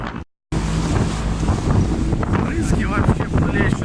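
Strong wind roars loudly across the microphone aboard a boat speeding along the Volga, a constant rush mixed with water noise, while people talk over it.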